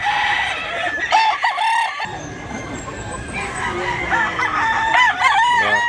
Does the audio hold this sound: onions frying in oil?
no